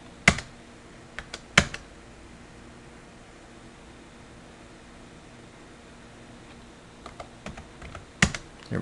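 Keys on a computer keyboard are tapped a few times early on, then a short burst of keystrokes follows near the end, each click crisp and close against a quiet room hiss.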